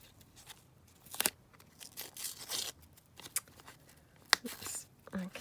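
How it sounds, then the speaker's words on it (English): Paper being torn by hand for a scrappy journal cover, several short ripping bursts spread across a quiet craft-table background, close and crisp with gaps between tears. "Just tear that down"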